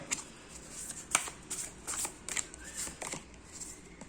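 Oracle and tarot cards being shuffled by hand, a close run of soft riffling rustles and sharp flicks in uneven bursts over about four seconds, with no talking.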